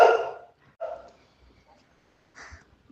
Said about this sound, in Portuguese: o cachorro tá atrapalhando, eu acho